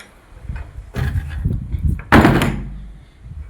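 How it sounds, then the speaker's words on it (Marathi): A door is pushed and swung shut, with creaking movement followed by a loud, close slam that rings briefly. "दरवाजा लावते पहिले."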